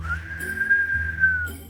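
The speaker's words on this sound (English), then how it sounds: "a weenie whistle" A weenie whistle toy gives one sustained, steady tone held for over a second, with a faint buzzy undertone beneath it.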